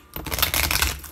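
Tarot card deck being shuffled, a brief run of rapid riffling card clicks lasting about a second, close and clear with no talking.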